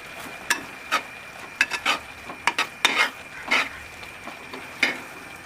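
Grated coconut being stirred into a pot of cooking paani, a spoon scraping in a string of short, sharp clinks and scrapes against the pan, fairly close, with quiet gaps between strokes and no talking.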